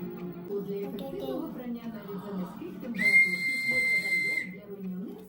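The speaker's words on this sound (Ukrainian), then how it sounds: "Купила свисток, щоб він навчився. Е, дути ротом." A shrill whistle is blown once for over a second, cutting through ongoing talk from nearby voices.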